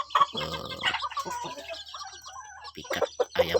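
A young jungle fowl rooster clucks and makes short crowing calls close by, with several bursts spread across a few seconds and no talking.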